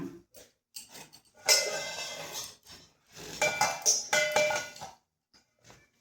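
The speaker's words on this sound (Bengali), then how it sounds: "আর এই যে ঝনঝন করে আওয়াজ হচ্ছে, সেটার জন্য হচ্ছে একটা বড় রাঁধুনি আছে আমার ঘরে, রাঁধুনি রান্না করছে" Metal pots and utensils clang and clatter in a home kitchen as someone cooks, in irregular bursts of ringing clinks, close and fairly loud.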